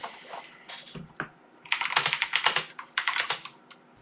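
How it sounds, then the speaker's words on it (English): Rapid bursts of typing on a computer keyboard, close and clear, with irregular clusters of key clacks separated by short pauses. "I think he's typing."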